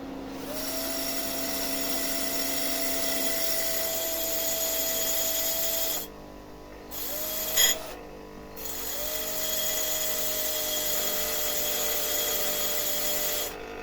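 Tungsten TIG welding electrode ground on a grinding stone: a high, steady whine of the spinning wheel with bright rising scraping tones as the tip is pressed on, a brief pause, then more grinding strokes, close and loud.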